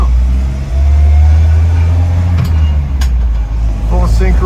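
Restored 1974 Land Rover with a full synchro gearbox pulling away in first gear, a loud low engine drone heard from inside, with a few clicks and someone talking briefly near the end.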